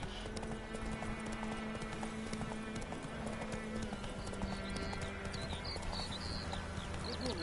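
Hooves clip-clop in a steady galloping rhythm over a constant bed of game background sound and music, heard at a moderate distance.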